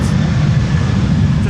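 An aircraft landing on Schiphol's Polderbaan runway 18R with its thrust reversers deployed gives a loud, steady, deep roar that fills the whole moment.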